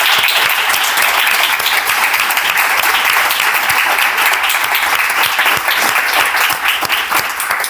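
Strong applause from an audience at a literary talk, loud, dense and continuous clapping from a nearby crowd, holding steady before easing slightly at the end.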